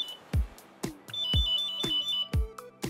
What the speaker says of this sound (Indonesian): otomatis alarm akan langsung aktif dan ban-ban akan otomatis terkunci